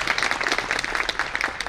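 An audience at a Swaminarayan temple gathering claps together in a dense, moderately loud burst of applause with no talking.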